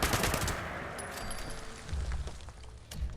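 Rapid video-game gunfire bursts out loudly at first, then tapers into scattered shots and thuds over a few seconds.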